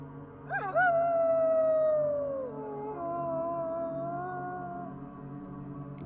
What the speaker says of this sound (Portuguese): O uivo de um lobo.